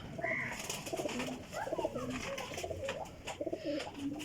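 Domestic pigeons kept by a breeder coo in a low, repeated rolling rhythm, several birds calling close by with short pauses between phrases and some background noise.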